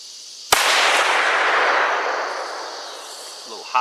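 A single sharp rifle shot from a 6.5 Creedmoor or .30-06 fired with ballistic-tip ammunition, a loud crack followed by a long rolling echo that fades over a few seconds outdoors.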